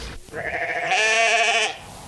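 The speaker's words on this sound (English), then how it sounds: "there's a sheep out there" A single sheep bleats outdoors near a stream, one drawn-out, fairly close call lasting just under a second, with a soft outdoor background before and after.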